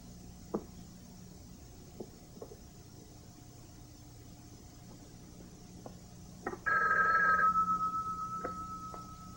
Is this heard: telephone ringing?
yes